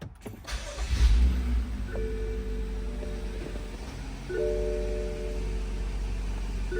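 A 2016 BMW X5 3.0 turbo with a ZF 8-speed transmission cranks briefly and catches, then settles into a steady, even idle hum, close and fairly loud with no voices.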